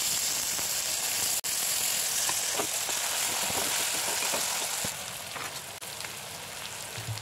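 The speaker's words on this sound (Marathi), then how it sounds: "कांदा लाल झाल्यानंतर त्यामध्ये टोमॅटो टाकून घ्यावा" Chopped tomatoes drop into onions already fried until reddish in hot oil with bay leaf, for a Maharashtrian peas and potato curry; a steady loud sizzle and crackle runs throughout, easing slightly near the end, with no talking.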